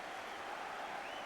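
A football stadium crowd applauds at half-time, a steady dense wash of clapping and cheering with no break, loud and continuous over the whole moment.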